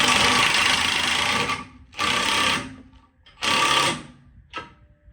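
A power tool whirs in loud bursts, tightening a bolt on a Ford Bronco bumper relocation: a long run of about two seconds, two shorter bursts, then a quick final blip, all close and alone.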